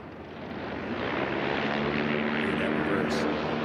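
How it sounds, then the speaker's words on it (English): A STOL drag race aircraft roars with steady broadband propeller and engine noise as it brakes hard on reverse pitch propeller, loud and continuous, close by. "look how quick he can get that aircraft stopped by stabbing that reverse pitch propeller"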